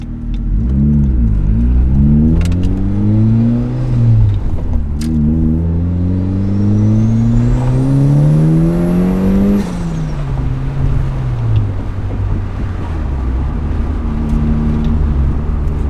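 A turbocharged NB Mazda Miata engine roars loud and close, pitch climbing steadily under acceleration, then easing off into a deep rumbling exhaust drone.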